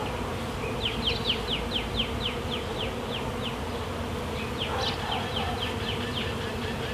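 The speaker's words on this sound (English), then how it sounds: "Eventually all the bees are going to make their way into the hive." Packaged honeybees buzz continuously at close range while being put into a beehive outdoors, a dense droning hum with small chirping bursts rising above it.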